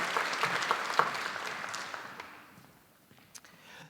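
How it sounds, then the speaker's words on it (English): Audience at an award ceremony applauding, with individual claps distinct at first, then the sound thins and fades away into quiet scattered claps. "let's give Miss North Carolina another big round of applause"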